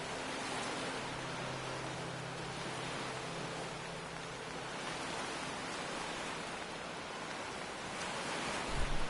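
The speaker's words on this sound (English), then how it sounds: "Ooh, the ocean is very loud here." Loud ocean waves in Fallout 4, a dense, steady hiss of surf washing continuously at close range, with a brief thump at the very end.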